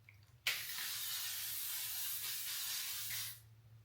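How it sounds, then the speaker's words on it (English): L'Oreal Infallible makeup setting spray mists onto a face as one steady, close hiss of about three seconds. The hiss starts sharply and fades out, with no talking. "I am going to spray my face down"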